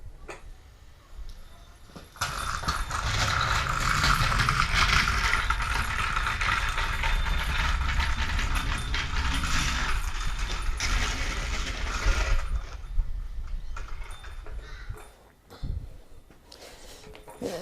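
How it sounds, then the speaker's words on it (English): A welding trolley built from scrap with mismatched wheels rolls down a driveway, giving a sustained rattling, clattering rumble for about ten seconds before it stops. Quieter handling noises come before and after. "the very first thing I did when I assembled it was ride it down the driveway,"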